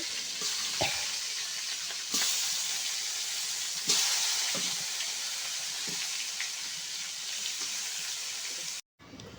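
Fish frying in a pan gives a steady, loud hiss and sizzle all the way through, broken by a few soft knocks and taps before a sudden short dropout near the end.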